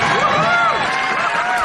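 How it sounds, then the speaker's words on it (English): A political talk-show audience roaring briefly, a dense burst of crowd cheering and whooping lasting under two seconds. "Why are people applauding that?"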